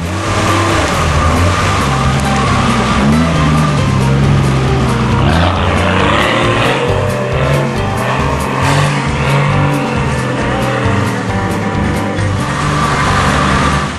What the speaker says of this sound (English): Dave's off and running again, and this time he's going straight to the top without stopping.